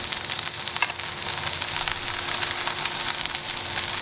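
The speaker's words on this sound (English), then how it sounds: "now we're just gonna sear it 30 seconds per side" Wagyu steak searing on a very hot grill after smoking, a dense, continuous close sizzle and crackle with no talk.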